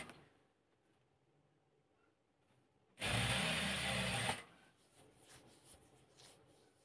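A sewing machine stitches a seam on a sofa chair cover in one short, loud burst of about a second and a half, set against a quiet room.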